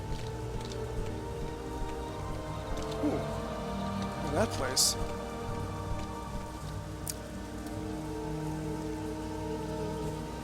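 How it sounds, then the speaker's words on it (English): Steady rain falls across a game world in Legacy of Laevus, a continuous patter heard throughout with a person talking over it. "Ah, it's time to rain again."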